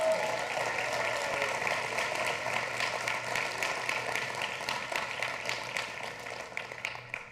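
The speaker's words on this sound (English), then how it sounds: "a round of applause for our great sponsors" Audience applause for sponsors at a large live event, many people clapping steadily and loudly, slowly thinning out toward the end.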